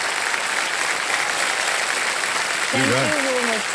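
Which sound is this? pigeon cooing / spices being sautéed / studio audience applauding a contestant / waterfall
studio audience applauding a contestant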